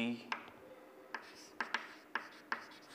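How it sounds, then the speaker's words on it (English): Chalk or marker writing on a board during a geology lecture, with soft faint scratchy strokes and several sharp taps as letters are formed, fairly quiet and steady. "Let me write it here."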